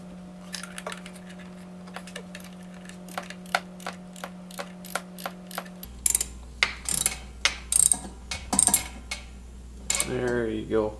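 A hand ratchet clicks in short, evenly spaced strokes while tightening the aluminum-seated oil drain plug on a Ski-Doo 1200 4-TEC snowmobile engine. The sound is close and crisp over a steady hum, then louder, more irregular clicks and clunks follow.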